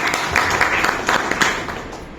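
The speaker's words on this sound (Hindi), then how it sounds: "चलिए इन लोगों ने जोरदार ताली बजाइए" Audience applause breaks out at a direct selling network marketing meeting, a dense burst of clapping that swells and then fades over a couple of seconds.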